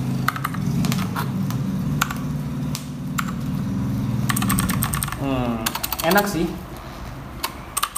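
Keys clatter on a Sades K10 full-size mechanical keyboard with RGB lighting, a fairly close, rapid run of clicky strokes that pauses while a voice speaks briefly, then resumes with scattered taps.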